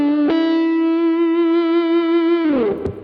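A sustained electric guitar note from the bridge pickup, driven through an Ideyha Giga Distortion pedal, rings steady and loud with a thick harmonic-rich tone before bending down and cutting off near the end.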